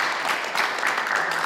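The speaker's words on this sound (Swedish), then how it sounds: "En applåd till er allihopa." A room of people applauding first-time newcomers to a football community gathering: dense, continuous clapping from many hands, fairly loud and even throughout.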